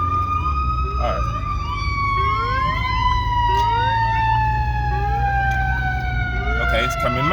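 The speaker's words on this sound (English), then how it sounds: "let me hurry up for this freaking ambulance" An ambulance siren wails loudly and close by over steady road traffic rumble, its rising and falling tone sweeping continuously throughout.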